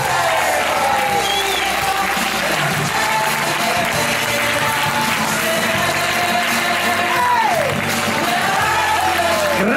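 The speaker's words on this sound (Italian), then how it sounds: "un grandissimo applauso" Audience at a black light and fire show by a holiday park animation team claps and cheers continuously, a loud dense crowd with an announcer's voice and whoops threaded through.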